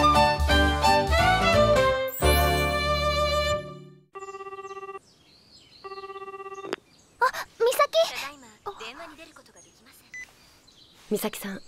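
A phone call goes unanswered in a Japanese anime: a dial-tone chime leads into two evenly spaced electronic ring tones, followed by a speaking voice.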